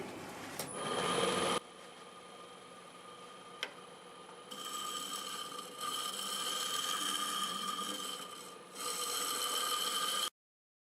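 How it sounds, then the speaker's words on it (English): A scraper working the inside of a segmented dovetail-joint wooden bowl on a lathe, giving a steady whine and raspy scraping that starts and stops in bursts, with one sharp tick partway through and quiet gaps between passes. "I'm going to go over it with my scraper now and get it ready to sand."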